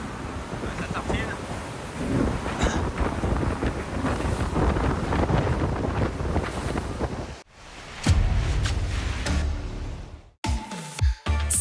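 Strong wind of around twenty knots buffets the microphone aboard an Ultim racing trimaran sailing south off Brest, a loud continuous roar with rushing water, which cuts out briefly before gusting back in.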